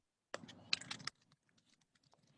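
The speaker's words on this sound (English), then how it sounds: "I've just kind of been typing in a little note" Keys clatter on a computer keyboard as notes are typed, a quick close burst of clicks under a second long, then a few faint scattered taps trailing off in a quiet room.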